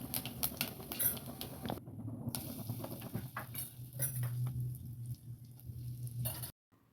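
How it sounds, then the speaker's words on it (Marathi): Cumin and mustard seeds temper in hot oil, giving an irregular crackle of popping seeds and sizzling that comes in bursts, then settles into a steadier fry before cutting off abruptly. "आता याला फोडणी देऊयात."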